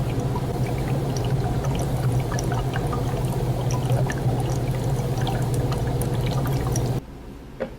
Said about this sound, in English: we can demonstrate it here by just dropping some dry ice in some universal pH indicator